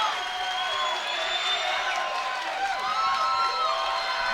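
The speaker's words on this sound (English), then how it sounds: "The crowd preemptively cheering here." An arena crowd at a cage fighting event cheers and shouts in a steady, moderately distant roar with rising whoops, continuous over the whole stretch.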